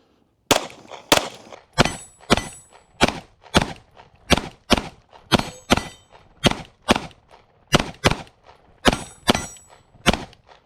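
Roughly thirteen evenly spaced, sharp gunshots from an EAA Girsan MC9 Disruptor pistol with a red dot sight, fired outdoors at steel targets, each report followed by a bright ringing clang of steel, loud and close with no talk.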